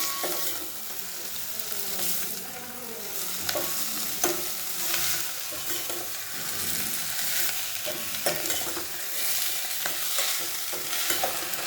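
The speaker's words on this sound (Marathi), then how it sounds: "ही भाजी टाकून घेतली मी. चांगलं परतून घ्यायचं." Gholachi greens stirred and tossed on a hot iron griddle, a steady sizzle broken by repeated scraping strokes of a spatula throughout, close and fairly loud with no talking.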